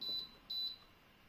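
Two short electronic beeps from the touch control panel of a 6-litre, 2400 W electric air fryer, close and clear, separated by a brief gap, with a quiet background and no talking.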